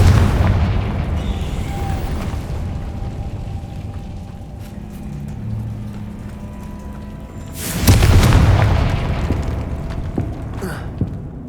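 Spell blast from a fantasy wizard game's fire-charm: a loud booming explosion bursting out near the end, over a steady rumbling ambient background with a softer muffled thump earlier.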